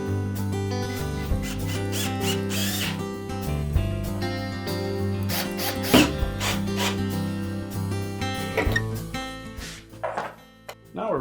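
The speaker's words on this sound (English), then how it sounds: "we'll install the retaining screws." Retaining screws being driven in while installing a drive motor on a Frigidaire washer, heard as close mechanical whirring from a powered driver mixed with scattered clanks, knocks and metallic taps.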